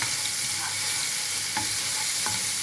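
Garlic fries in hot oil for a tasha to finish a sprouted fava bean dish, with a loud, dense sizzle and a few light stirring clinks, close up and without any talking.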